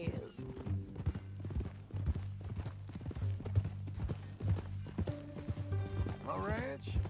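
Horse hooves clip-clop at a steady walking rhythm in the video game Red Dead Redemption 2, with someone speaking over them and a brief whinny near the end.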